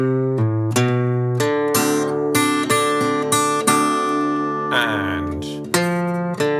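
Acoustic guitar playing the intro of a blues song, fingerpicked bass notes and bright plucked treble notes in a loose bluesy rhythm, close and clear, with no speech over it.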